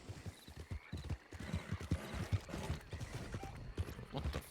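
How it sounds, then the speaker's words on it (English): A horse in a ranch roleplay video game stamps and clops in a rapid, uneven rhythm, close by, with whinnies and creaking mixed in. "my horse is kind of freaking out for some reason"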